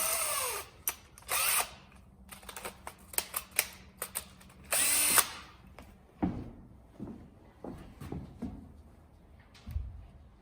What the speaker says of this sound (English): 18 volt DeWalt drill on the 2nd speed setting because I want to go fast